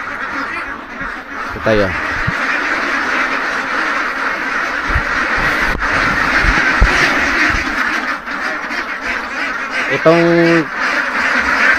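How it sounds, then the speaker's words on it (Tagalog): Two-month-old ducks give a couple of clear, nasal quacks close by. A person talks steadily over a constant background hum from the flock. "yung mga 2 months old, yung mga itik."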